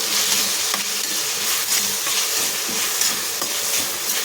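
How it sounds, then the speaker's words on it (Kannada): Chopped ginger and garlic frying in a pan while being stirred, giving a continuous close sizzle broken by soft scraping strokes of the spoon, steady and fairly loud with no talking. "ನೋಡಿ ಈಗ ಇದೆಲ್ಲವನ್ನು ಚಲೋತ್ತಾಗಿ ಹುರ್ಕೊಳ್ಳೋಣ."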